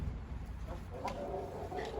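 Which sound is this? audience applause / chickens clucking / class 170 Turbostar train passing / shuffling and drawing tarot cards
chickens clucking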